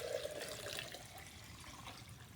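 A liter of liquid is poured into a vessel, a faint, steady trickle and splash running continuously with no voices.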